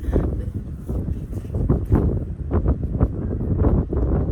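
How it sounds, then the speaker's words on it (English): Strong outdoor wind buffets the microphone in loud, low, gusty rumbles that swell and fade throughout, with no talking. "that strong wind decided to make an appearance and say hi to our conversation"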